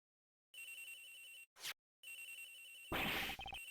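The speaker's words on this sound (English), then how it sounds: "Agent Hicks' phone, it's ringing from somewhere, sir." Mobile phone ringing in the video game Ace Attorney Investigations: a bright electronic ringtone repeating in two bursts separated by short gaps, clear and close, then a louder synthetic blip sequence near the end.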